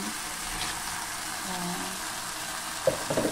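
Shrimp drop into a hot pan with pasta cooking, giving a steady low sizzle and frying hiss. A few sharper clatters come near the end, with faint voices in the background.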